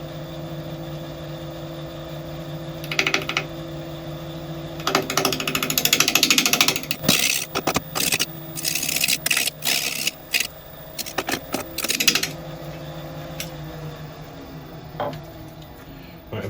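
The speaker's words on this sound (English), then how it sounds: "we're going to kind of sneak up on it very gently with the bowl gouge" A bowl gouge cuts into a wooden bowl blank spinning on a lathe at about 800 RPM, giving steady motor hum under bursts of scraping, chattering cuts that come and go in short, irregular passes.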